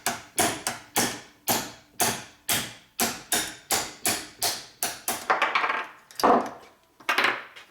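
Hammer striking a punch to drive the piston pin out of a 1973 Aermacchi Harley-Davidson X90 90cc motorcycle piston, a run of sharp metallic taps at a steady rhythm, close and loud, turning into quicker, uneven knocks near the end.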